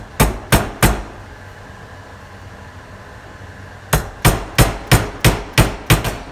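Sharp hammer taps from a dead blow hammer striking a wooden dowel to seat an oil seal on a 1981 Yamaha G1 A2 golf cart: three close, loud knocks, a pause, then a steady run of seven more.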